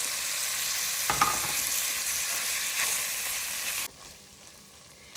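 Ground beef and chopped onion fry in a pan with a steady, close hiss and crackle. A stirring scrape comes just after the first second, and the sizzle drops sharply near the end as the heat is cut.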